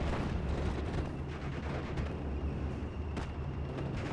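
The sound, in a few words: artillery fire in a World War II strategy video game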